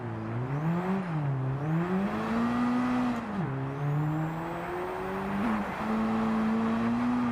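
A front-wheel-drive Honda Civic in Gran Turismo 7 drives with its engine droning steadily, the pitch rising and dipping through gear changes and revs, loud and continuous with no talking.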